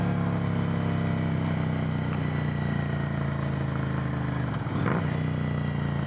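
A Ducati Monster 797 motorcycle engine hums steadily and loudly throughout while being ridden, with a brief dip and shift in pitch near the end, like a gear change or easing off the throttle.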